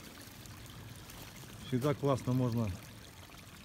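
A spring-water stream in the Black Forest runs with a steady, soft rushing in the background. A voice briefly speaks over it.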